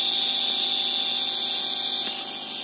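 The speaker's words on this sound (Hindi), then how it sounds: "मोटर फुल आरपीएम पर आप देख सकते हैं, बहुत आरपीएम में ये मोटर घूम रही है" An ebike motor on a speed controller spins at full RPM, giving a steady, continuous high-pitched whine with an even hum beneath it that eases slightly in level just before the end.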